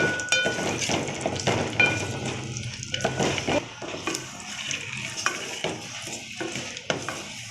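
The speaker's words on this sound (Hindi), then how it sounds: "इन सब चीज़ों को घी में अच्छे से फ्राई कर लेंगे।" Coconut, almonds and other ingredients fry in ghee for jaggery rice, with steady sizzling and a spoon scraping and stirring against the pan in repeated strokes.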